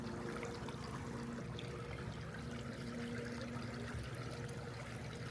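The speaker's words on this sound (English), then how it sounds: "And we'll get her back in the water." Water sloshing and trickling in a spring Lake Ontario tributary stream as a trout is eased back in, a steady close wash of flowing water running throughout with no voices.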